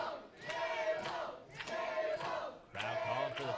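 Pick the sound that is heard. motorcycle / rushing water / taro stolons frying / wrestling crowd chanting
wrestling crowd chanting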